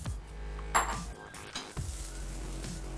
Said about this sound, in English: Nicely saute this a little bit.